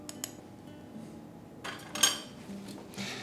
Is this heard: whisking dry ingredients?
yes